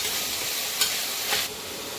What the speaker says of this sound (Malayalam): ഇതിൻ്റെ കൂട്ടത്തിൽ നമ്മൾ വെളുത്തുള്ളിയുടെ പേസ്റ്റ് ഇട്ട് കൊടുക്കാം.